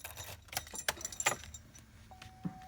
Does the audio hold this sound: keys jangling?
yes